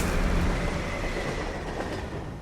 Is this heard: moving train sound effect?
yes